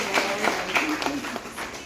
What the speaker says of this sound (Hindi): मैं रोमिता जी भल्ला जी के लिए थोड़ी तालियां तो बनती हैं